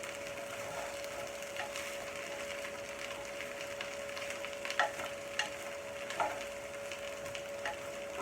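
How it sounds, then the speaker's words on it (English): Chopped carrots go into a sizzling pot for stovies and get stirred, with a steady fry hiss under a few distinct scraping, clattering stirs of a utensil against the pan. "I'm going to add that in and give that a stir."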